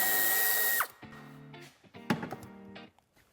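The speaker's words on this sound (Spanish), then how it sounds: "quitaremos este tornillo con una llave de 7" A 7 mm wrench or power driver whirs steadily for under a second while removing a screw behind the wheel-arch trim of a 2015-on Fiat 500X, then winds down into a few shorter, quieter mechanical bursts.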